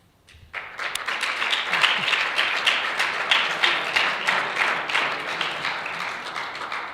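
Sustained applause from a conference audience at the close of a days-long event, dense clapping starting abruptly and holding steady, fairly loud and close, with no talk over it.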